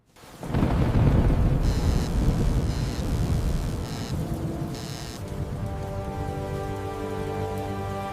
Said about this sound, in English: the storm is coming fast